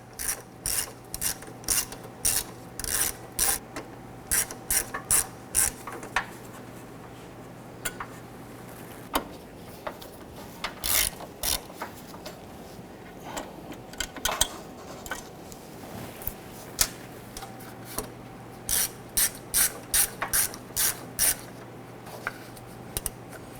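A hand ratchet loosens the headlight retaining bezel screws on a 1997-2006 Jeep Wrangler, giving bursts of rapid, close clicking separated by short pauses over a faint steady hum.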